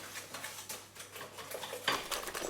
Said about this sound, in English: So just go in and whisk all this together till it gets to that beautiful caramel brown emulsion.